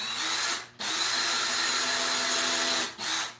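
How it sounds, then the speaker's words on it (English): Cordless power drill boring small pilot holes for screws, two long loud whirring bursts of steady high-pitched motor whine separated by brief pauses, close up with no talking. "I'm just going to make a couple little pilot holes"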